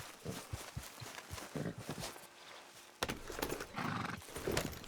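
Horses moving at pace with clip-clop hoofbeats and a neigh in Red Dead Redemption 2, the hooves drumming steadily up close throughout a short stretch.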